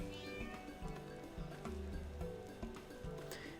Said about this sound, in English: The suspiciously curl-like kitten pounces into your arms.